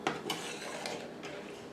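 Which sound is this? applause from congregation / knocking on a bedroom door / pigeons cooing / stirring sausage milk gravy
stirring sausage milk gravy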